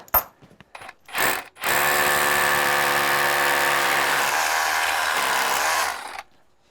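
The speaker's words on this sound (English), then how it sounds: "Now I got my big drill, my SDS Plus, and I'm gonna drill these holes" An SDS Plus drill starts with a couple of short bursts, then runs loudly and steadily for about four seconds up close, drilling holes for a basement bulkhead staircase, before stopping.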